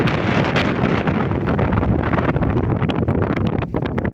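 Strong squally wind buffets the microphone on an exposed white rock cliff near a river, a loud, continuous roaring rush with gusty surges, no voices.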